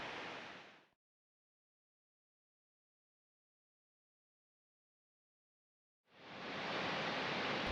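Wraith Falls in Yellowstone rushes as a steady, dense broadband roar, heard loud and close for about a second, then cut to silence, then returning just as full for the final stretch.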